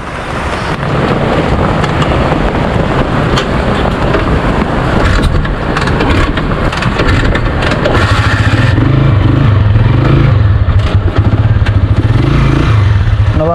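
A Honda TMX 155 motorcycle being ridden on a rainy day, its loud engine drone steady and close beneath heavy wind rush, rising in pitch and growing rougher toward the end as it accelerates.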